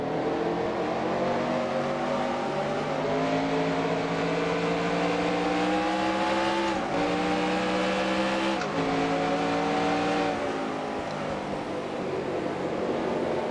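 A 1995 NASCAR SuperTruck race at Richmond in the NASCAR Racing 2003 video game: trucks roar off at the green flag with loud, continuous engine noise climbing in pitch, with abrupt drops at gear shifts.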